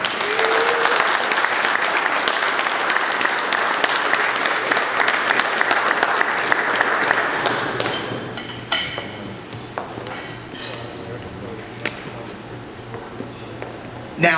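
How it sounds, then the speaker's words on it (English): Audience applause fills a room at an award presentation during a track team brunch, steady and loud for about seven seconds before thinning into scattered claps and faint clinks of dishes and cutlery. "a giant round of applause"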